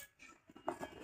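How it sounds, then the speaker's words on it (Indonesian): Scissors cut open the packaging of a remote-control bulldozer toy. A few brief, quiet snips and crinkles come up close within about a second. "Hati-hati ya kalau pakai gunting."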